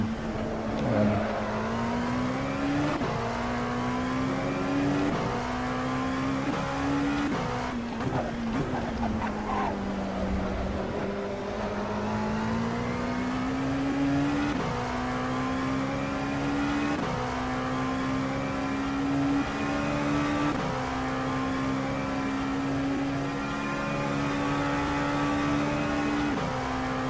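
A race car in the Daytona 24-hour endurance racing video game keeps up a loud, continuous engine drone for almost half a minute. The pitch climbs and drops again and again as it shifts gears and eases off through corners.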